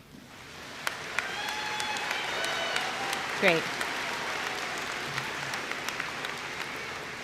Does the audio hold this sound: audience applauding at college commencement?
yes